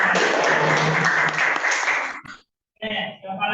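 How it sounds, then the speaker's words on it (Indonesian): Classroom applause during a university teaching session, a dense burst of clapping that cuts off abruptly near the middle, followed after a short silence by a brief second round. "Oke, tepuk tangan."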